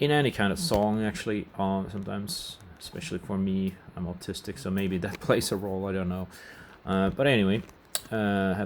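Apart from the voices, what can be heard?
None of the usual background noises is heard.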